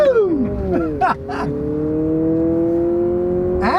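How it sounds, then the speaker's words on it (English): A Honda hybrid SUV with dual exhaust pulls away and accelerates, its engine note rising and climbing in pitch, loud and close. Brief voice-like bursts break in over the engine. "This has a dual exhaust on it, and it really makes a good sound."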